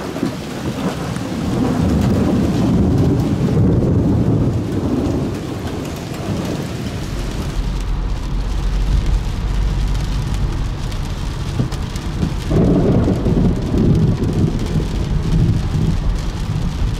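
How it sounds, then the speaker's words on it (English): A loud, non-severe thunderstorm in Illinois in October, with heavy rain pouring steadily throughout and deep rolling thunder rumbling up close, including a big boom partway through; no voices. "Non-severe but noisy storm sweeping through here on Monday morning."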